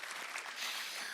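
Audience applause at a talk, a soft, steady patter of many hands clapping that holds evenly for a second or so, fairly quiet and distant.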